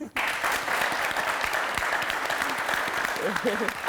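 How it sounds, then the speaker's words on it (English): A studio audience at an entertainment show bursts into steady, dense applause that fills the room, with a voice speaking briefly near the end. "A round of applause for him, please."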